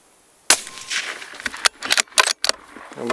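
Rifle fire at a paper target on a 200–300 metre range, heard as several sharp, loud cracks in quick irregular succession with brief gaps and rattling echoes between them.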